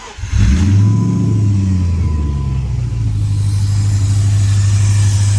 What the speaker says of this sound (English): the motor sounds great